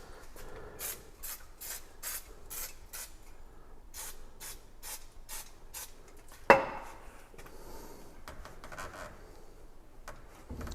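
A bicycle disc brake rotor is sprayed with brake cleaner and wiped, giving a run of quick, close spray bursts and rubbing strokes, then one sharp click and softer scrubbing afterward.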